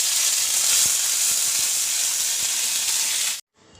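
Ginger hits hot oil holding a dry chilli and cumin tempering for mung dal. It makes a loud, close, hissing sizzle for about three seconds, then cuts off abruptly.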